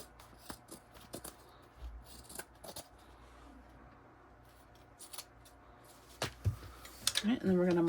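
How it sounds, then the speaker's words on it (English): Scissors snip through excess fabric while trimming a Pegasus-print mini backpack add-on, giving several short, close cuts scattered across the clip, with a louder burst of handling near the end. "I'm just going to trim off the excess"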